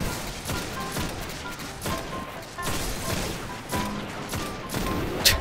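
Repeated gunfire from a weapon in the shooter game Destiny, a string of sharp shots and bursts cracking at irregular intervals, fairly loud and close, with no talking.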